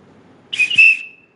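A single sharp whistle blast, loud and close, rising briefly and holding for about half a second before cutting off, over a faint low background.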